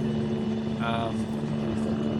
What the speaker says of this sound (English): can we get that helicopter to maybe just go somewhere further? It's quite noisy.